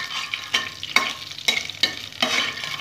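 Spice tempering (phoron) sizzles and fries in a pan for dal choranor torkari, with a steady loud crackle broken by repeated rhythmic scraping strokes of a spatula stirring, close and alone.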